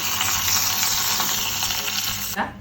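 Hot tempering of onion, curry leaves and fenugreek poured into Malabar-style coconut fish curry, a loud close crackling sizzle that fills the moment and then cuts off sharply near the end, with no voices.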